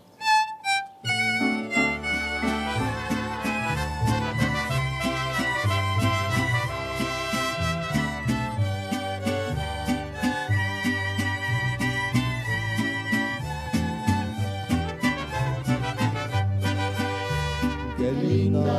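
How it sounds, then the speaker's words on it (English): A strolling mariachi band plays the traditional song Las Mañanitas, with strummed strings, a bass line and bright melody lines blending into a full, steady ensemble sound that carries without pause. "We're going to play a traditional song called Las Mañanitas."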